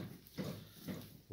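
Piglets on a small farm, fed goat's milk, grunt in three short, close bursts spaced about half a second apart, with quiet gaps between them.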